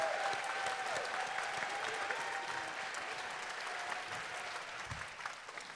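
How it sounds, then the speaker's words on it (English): An audience at a ballroom dance fundraiser gives a steady round of applause, a dense wash of clapping held at a constant level before easing off slightly at the end, with no talking over it. "let's hear a nice big round of applause for the"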